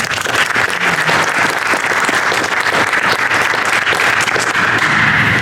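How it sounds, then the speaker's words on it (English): An audience at The Burlington School's 2023 State of School Address breaks into sustained, loud applause, dense clapping from many hands filling the whole stretch. "So give yourselves a round of applause."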